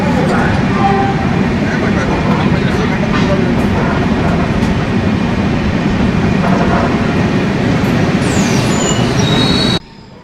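A train rumbles loudly through Asansol Junction railway station, wheels grinding and squealing in a continuous roar that suddenly drops away near the end.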